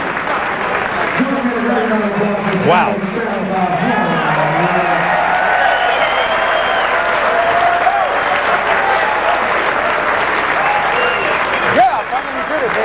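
A live crowd applauds and cheers a champion after a 9-ball pool win at the 2004 BCA Open, with loud, sustained clapping throughout while a commentator's voice and other talk run over it.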